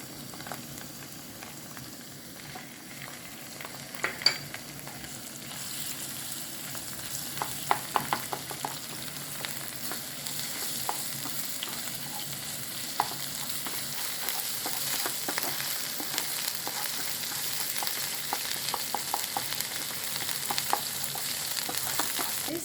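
Roasted potatoes fry in olive oil with pepper paste in a pan, a soft continuous sizzle with scattered scraping and clicking as they are stirred, fairly quiet and close, with no talking.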